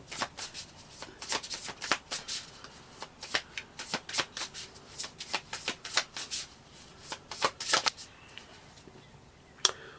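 Tarot cards being shuffled by hand, a quiet run of crisp riffling flutters and soft slaps repeating in irregular bursts, close and alone.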